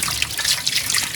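Hot water runs steadily from a tap in a house under renovation, giving a continuous close hiss and trickle with no talking.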